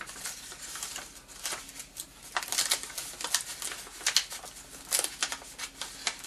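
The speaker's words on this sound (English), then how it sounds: "We're going to fold the top and the bottom together, and when we do, the sides will fold in" Sheet of paper being folded into a sailboat, with repeated crisp rustles and creasing crackles in irregular bursts, close and fairly quiet, with no voices.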